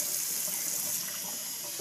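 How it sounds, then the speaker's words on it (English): Warm water runs steadily from a tap into a sink during handwashing, a constant close hiss and splash with no voices. "rinse off all the soap with, once again, warm water, making sure your hands are pointed down for all the water to run off down into the sink"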